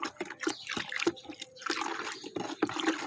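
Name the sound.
compost being stirred in 5 liters of water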